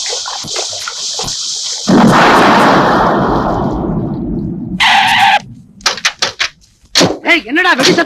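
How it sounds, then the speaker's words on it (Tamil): Explosion blasts from a Tamil movie scene, a loud sustained roar of blasts after a sharp opening, followed by choppy bursts and scattered voices. "என்னடா வெடி சத்தம் கேக்குது?"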